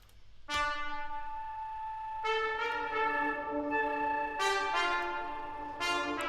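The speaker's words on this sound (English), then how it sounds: "the horn, and the pad. So it sounds like this." Bright flute-like and horn tones enter in bursts over a quiet sustained pad, repeating in a sparse, gentle loop.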